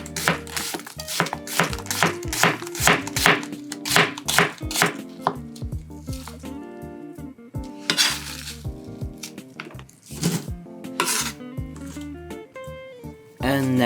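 Knife slicing onions on a cutting board for a vegetable sauce, a steady series of crisp chopping taps with light clatter of utensils, close and fairly quiet.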